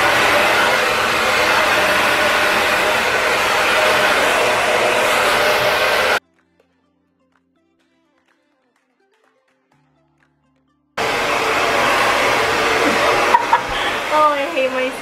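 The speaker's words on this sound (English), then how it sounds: "This is the dry bar blow dryer." A Drybar hair blow dryer drying hair whirs with a loud, steady close-up airflow roar, cuts out for several seconds of silence, then starts again with faint handling noises.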